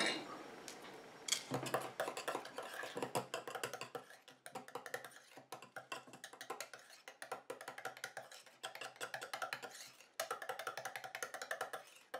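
Mango, coconut and shea foot butter mixed by hand in a container: quiet, close clicks, taps and scraping strokes in an uneven rhythm with short pauses.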